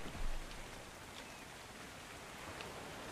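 Steady rain falling outdoors in the survival game ARK Survival Evolved, a dense even hiss of drops with a brief louder patter near the start, no voices.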